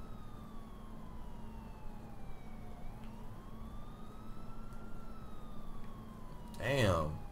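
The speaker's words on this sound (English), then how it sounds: "Let's go ahead and turn these sirens off." Police car sirens in the video game GTA IV wail with slowly rising and falling sweeps over a steady engine-like hum, continuous throughout, then a brief louder burst near the end.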